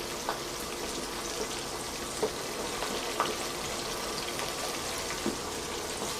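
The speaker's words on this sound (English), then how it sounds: "So we're going to let those go on the fry" Fried chicken sizzles steadily in hot oil, a dense continuous crackle with occasional sharper pops, close up and alone with no talk.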